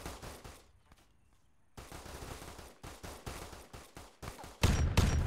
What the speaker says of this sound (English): There's just bullets coming everywhere.